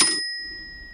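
A cash register sound effect: a single bright bell-like ding rings out sharply and fades away over a second, with nothing else around it.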